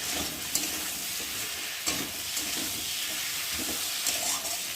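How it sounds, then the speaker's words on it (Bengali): Taro curry sautéing with turmeric, salt, cumin paste and ginger paste crackles in a steady sizzle, with occasional stirring scrapes and clinks close by. "আর দেবো জিরে বাটা আর আদা বাটা দিয়ে ভালো করে কষিয়ে নেব।"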